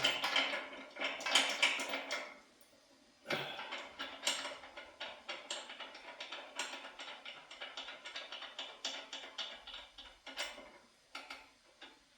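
Ratcheting wrench snugging bolts on a 1998 Evo chopper, a busy run of quick metallic clicks and ticks in bursts, close and moderately loud, with a brief pause partway through and no talking.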